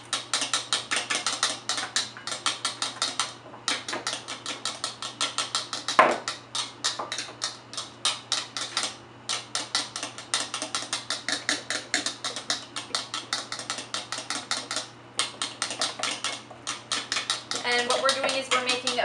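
An egg is whisked into warm milk to make pancake batter, a rapid rhythmic clatter of the whisk against the bowl that continues throughout in quick repeated strokes with a few brief pauses.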